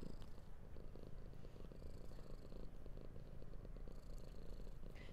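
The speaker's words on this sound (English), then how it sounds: "I'm really sorry about Squeak meowing all the way through this" A cat purrs quietly and continuously in a calm indoor setting, a soft low rumbling that runs steadily throughout with no voices.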